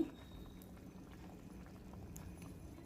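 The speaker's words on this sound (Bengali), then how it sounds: "ঝোল ফুটে উঠেছে, আমি ঢাকা দিয়ে দিলাম সেদ্ধ করার জন্যে" Vegetable curry gravy of turnip and potato bubbling in a covered pot, a steady soft simmer with faint scattered pops and blips, quiet and continuous throughout.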